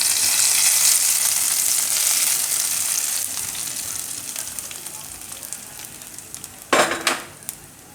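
Hot ghee tempering with golden garlic and chilies sizzles loudly in a pan, fading gradually, then a sharp burst of hissing as it is poured over cooked mustard greens.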